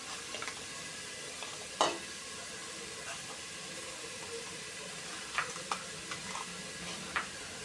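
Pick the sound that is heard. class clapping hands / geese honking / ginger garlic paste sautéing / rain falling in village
ginger garlic paste sautéing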